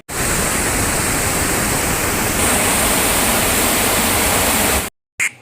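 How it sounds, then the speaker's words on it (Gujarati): The Varoli River running bank-full in spate after heavy rain and water released from Kuze Dam makes a loud, steady roar of rushing water that cuts out abruptly near the end, with no voices. "વારોલી નદી બે કાંઠે વહેતી જોવા મળી હતી"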